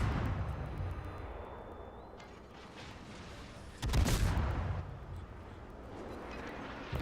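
Battleship guns fire in the World of Warships naval game, heard as a low rumbling salvo bed with a heavy booming blast near the middle that rolls on, over a continuous low drone.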